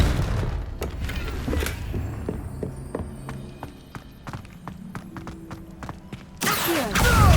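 Confringo blasting spell cast in the video game Hogwarts Legacy: a series of sharp, punchy impacts and thuds over layered game music and ambience, ending in a louder broadband burst near the close.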